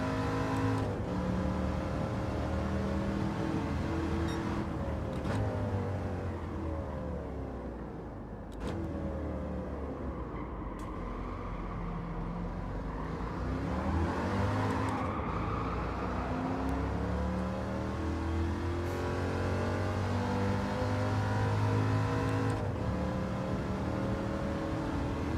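A NASCAR-style Chevelle race car engine in Gran Turismo 7 drones continuously and loudly, with gear shifts and rising and falling revs through a long lap, no talking.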